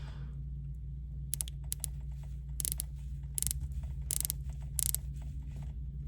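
Rotating ceramic-insert bezel on a titanium Tudor Pelagos watch, quiet clusters of small sharp ratcheting clicks in short bursts, close and faint over a low steady hum.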